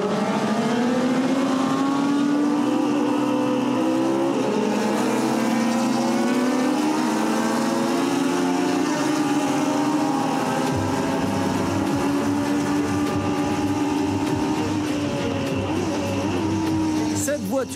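Race cars roar through a rolling start in a motor race, with several engines droning and revving together, pitch sweeping upward as they accelerate, loud and sustained throughout under a commentator's voice.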